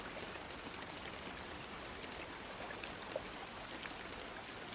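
Heavy rain in a cartoon village pours down in a steady, dense hiss of drops, constant and moderately loud with no voices.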